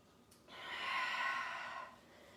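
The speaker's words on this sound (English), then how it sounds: "Breathe out" A long, soft exhale while lowering into child's pose in a yoga class, a steady breathy hiss of about a second and a half, close and quiet, with no talking over it.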